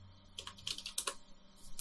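Someone types a bash command on a computer keyboard, with quick, close, soft clusters of key clicks in uneven bursts, no talking.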